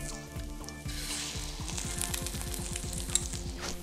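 Two lightly beaten, salted eggs frying in a spoonful of oil in a pan for vegetable fried rice: a loud, close, continuous sizzle with dense crackling bursts, steady throughout with no talking.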